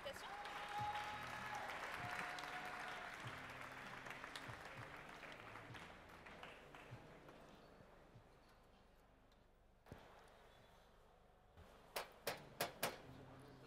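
A small group at a barista competition claps for a few seconds, fading into quiet room sounds, followed by several sharp taps near the end.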